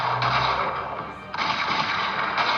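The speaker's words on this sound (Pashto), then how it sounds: "عاقبه ډز وکئ هغه ووژنئ" Gunfire in a Pashto TV drama scene sounds as dense, loud cracking bursts that blend into a continuous rattling barrage, like a volley of shots, with a short dip in the middle.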